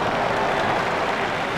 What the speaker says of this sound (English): The crowd really enjoyed that shot.